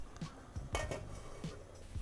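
A spoon stirs herbal tea ingredients in a pot of water, giving soft repeated clinks and scrapes in an uneven rhythm, close by and fairly quiet.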